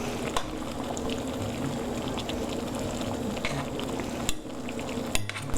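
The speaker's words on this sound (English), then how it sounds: "Let's have a look at the water back here. That is boiling beautifully." A pot of water at a steady rolling boil in a kitchen while shrimp fra diavolo is cooked, a continuous bubbling hiss close by with a couple of sharp clinks near the end.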